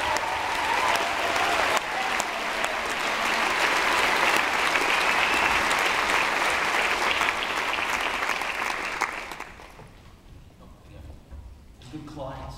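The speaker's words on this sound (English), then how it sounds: "Please, wonderful round of applause for the guys from Special" Warm audience applause for the speakers from Special rolls on steadily for about nine seconds, then thins and fades, leaving a quieter room with faint sounds at the end.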